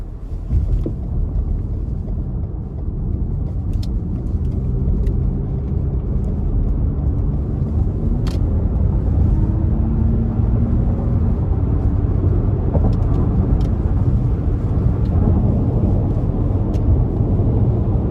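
2017 Lexus RX 350 with an 8-speed automatic pulling under light throttle, a steady low engine drone rising gently in pitch as it accelerates over continuous road and wind noise inside the cabin.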